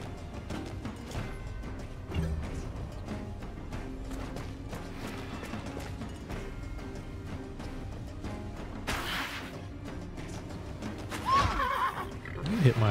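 Horse neighing and whinnying in the video game Wartales, with clip-clop hooves and battle sounds over a steady game soundtrack, while a player talks throughout; a louder whinny rises near the end.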